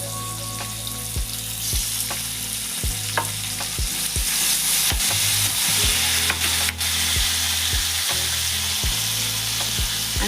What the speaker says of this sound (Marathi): चांगला परतून घ्यायचा. कांदा लालसा झाला, त्यामध्ये बारीक चिरलेला टोमॅटो टाकून घ्यायची.